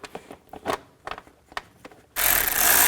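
A ratchet snugs down the intake cover bolts on a 2003-08 Nissan Maxima, giving several short bursts of close, crisp clicking, then a loud, steady broadband rush takes over.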